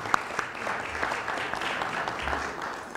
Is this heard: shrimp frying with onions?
no